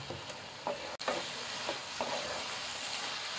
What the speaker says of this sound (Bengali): দুটো এলাচকে ছাটিয়ে এরও দিয়ে দেবো, আর দেবো দুটি তেজপাতা।